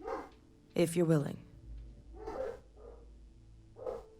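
Pet dogs bark in a room in a few short bursts, heard around a man's speech that runs throughout.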